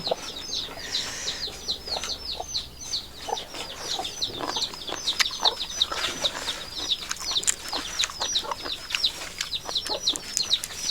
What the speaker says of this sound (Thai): เสียงไก่อาจรบกวนเด้อจ้ะ